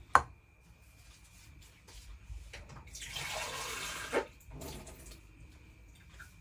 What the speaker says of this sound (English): So I'm just gonna add in some water.